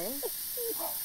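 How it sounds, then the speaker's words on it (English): Organic disinfection spray in The Sims 4 hisses steadily and softly, with voice-like tones over the continuous spray. "Okay, we're spraying."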